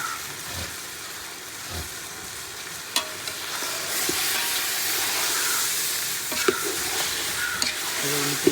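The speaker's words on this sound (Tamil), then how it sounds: "2 கிலோ சிக்கன் 100 கிராம் பீஸாக நம்ம வெட்டி வாங்கி வந்திருக்கோம். அதை இந்த ஸ்டேஜில் வந்து அப்படியே ஆட் பண்ணுறோம்." Two kilograms of chicken pieces go into a hot pan while cooking a homemade dum biryani, giving a steady close sizzling and frying hiss with occasional stirring clinks, and no talking.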